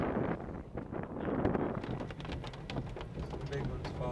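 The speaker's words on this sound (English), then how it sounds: "We're in the hail, so we're on the north side." Hail and heavy rain fall on the north side of a high-precipitation supercell thunderstorm near Lawton, Oklahoma, a dense, steady rattle and hiss with wind buffeting and voices talking underneath.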